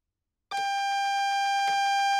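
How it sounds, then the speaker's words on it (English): AWS self-test alarm in a Great Western Express Class 1 train cab in Train Sim World 2020, a steady electronic two-tone beep that starts abruptly and holds loud and continuous. "That alarm is the AWS self-test system."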